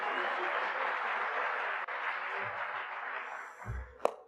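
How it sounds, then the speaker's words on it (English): A crowd applauds steadily at moderate distance, the clapping tapering off toward the end with a few low thumps and a sharp knock. "give yourselves a round of applause."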